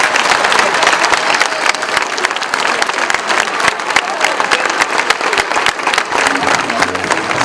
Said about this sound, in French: je pense qu'on peut déjà leur faire un tonnerre d'applaudissements à tous ces petits